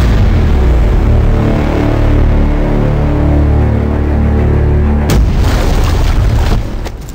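Loud, continuous rumbling booms from explosions in Medal of Honor Warfighter, dense and roaring throughout, with a sharp new blast breaking in near the end.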